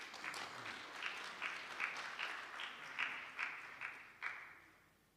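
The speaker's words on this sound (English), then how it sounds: "Let us give her the hand of applause as she's coming forward" A hall audience at a traditional leadership seminar in Mpumalanga claps as a woman comes forward to speak, a fairly faint round of applause with rippling bursts that fades out toward the end.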